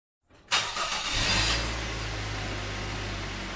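Car engine starts with a sudden burst, then settles into a steady low rumble and hum as the vehicle drives, close and continuous with no talk.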